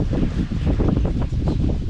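Steady wind rushes across the microphone with low rumbling gusts, continuous and fairly loud throughout, with no voices.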